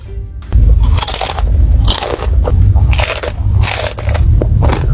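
Loud, close crunching bites into spicy chicken feet with thick crispy skin, repeated in a steady chewing rhythm of sharp crackles and crushing sounds with no talking.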